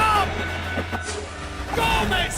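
A train rumbling in the Call of Duty: Black Ops video game, a low steady rolling drone with metallic squeals and clanks rising and fading over it.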